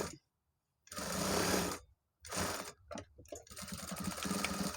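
A sewing machine stitches a shirt hem in loud bursts, running about a second, pausing, then starting again in shorter stuttering runs before a longer steady run, close by with no talk.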